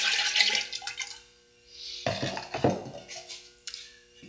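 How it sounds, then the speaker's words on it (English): Ceramic glaze poured into a pot, a liquid splashing and trickling that swells in bursts over a few seconds, close and moderately loud, with no talk. "So I just pour the glaze in"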